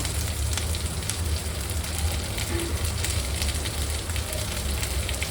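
Capsicum and onion sizzle steadily in a hot pan while paneer chilli is being cooked, a continuous crackling hiss with no pauses.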